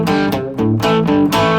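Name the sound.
Guitar lick mixing fretted notes and open strings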